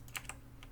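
A few computer keyboard key presses sound as soft, close clicks, about three or four taps spaced irregularly over a faint steady hum.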